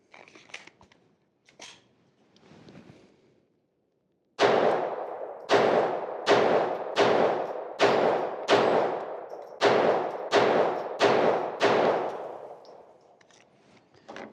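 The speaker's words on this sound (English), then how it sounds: "get some rounds down range, and see what happens" An FN502 pistol fires about ten loud, sharp shots at a steady, quick pace outdoors, each crack ringing briefly, after a few faint handling clicks and rustles.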